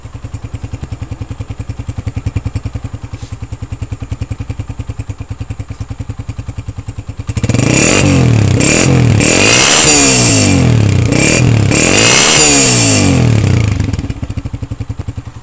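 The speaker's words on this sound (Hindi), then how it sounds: "एक मरतबा स्लो साउंड सुनेंगे, उसके बाद एक्सीलेटर दे के साउंड भी सुनेंगे।" A restored 2013 Honda CG125 motorcycle idles close by with a steady, even putter for about seven seconds, then revs hard and loud in several surging bursts before settling back down.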